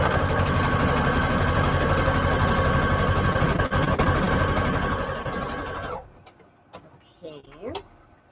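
A sewing machine stitching lace down onto an index card pocket runs steadily and close for about six seconds, then stops, leaving quiet handling sounds and brief soft noises.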